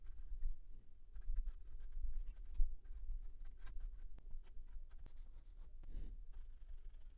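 A fountain pen nib glides over paper in faint, soft scratching strokes, with quiet, intermittent patter and light taps of steady handwriting.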